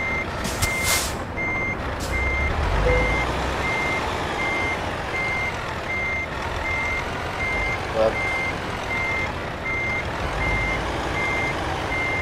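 A truck's reversing alarm beeps in a steady repeating rhythm over engine rumble in Euro Truck Simulator 2, with a brief hiss of air brakes near the start; a voice speaks once briefly.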